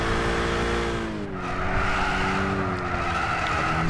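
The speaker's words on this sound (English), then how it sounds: "Oh, listen to them tires squeal." Tires squeal steadily on race cars in Gran Turismo 6 during a 500 PP Clubman Cup race through a tight hairpin, a loud continuous screech layered over droning engines with no talk.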